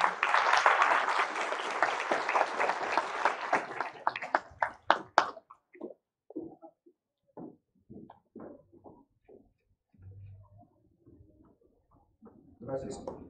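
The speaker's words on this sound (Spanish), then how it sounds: "Maldonado Cruz Iván, para quien pido un fuerte aplauso, por favor" Applause breaks out for a graduate receiving a professional degree at a university title ceremony, a few seconds of dense clapping that thins into scattered claps, followed by someone speaking at a microphone.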